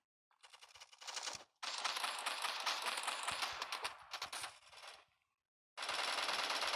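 MK11 rifle in the video game Bullet Force fires in rapid bursts of crisp shots, broken by short pauses, loud and close with no talking.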